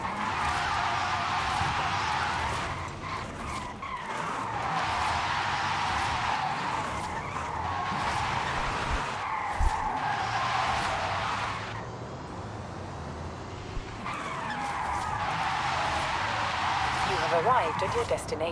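Porsche Taycan Turbo S tires skidding through a drift in Forza Horizon 5, a steady loud screech with electric drive whine, dipping briefly midway before surging back, with a voice talking over it.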